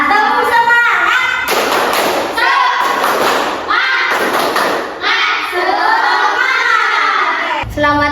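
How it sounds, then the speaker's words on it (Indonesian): A classroom of students performs a rhythmic group clap, loud and close, in repeated bursts of sharp clapping and chanting voices, with short pauses between phrases. "Tepuk semangat."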